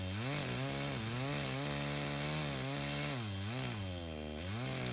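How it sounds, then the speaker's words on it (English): Chainsaw cutting away the remains of a tree stump, the engine loud and close, droning steadily with rising and falling revs as the blade bites, no voices. "he at first decided to use a chainsaw to cut the rest of the stump away"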